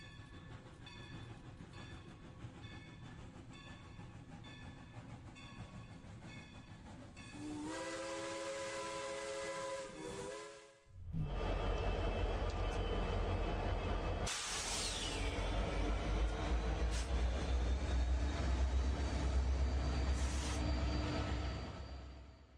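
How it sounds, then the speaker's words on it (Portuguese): Steam train on the move, starting with rhythmic chuffing and rumble, then a sustained steam whistle, followed by loud hissing steam and heavy rolling noise, all close and continuous. "Primeiro você está vendo aí o trem a vapor"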